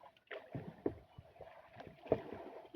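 Quiet irregular splashes and knocks of oars working water beside a small wooden boat, with creaks and thuds spaced unevenly.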